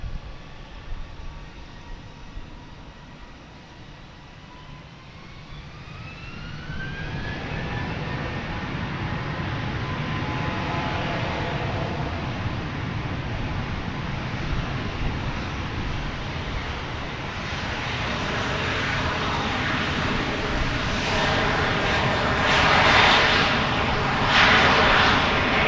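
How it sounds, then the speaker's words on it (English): A Boeing 737-800 on arrival at Dallas Fort Worth Airport, inbound from Guadalajara, hums faintly at first, then its engine rumble builds steadily and grows louder toward the end, with some faint background noise. "we will watch instead the arrival of Flight 1034. It's coming in from Guadalajara in Mexico. This is a 737-800."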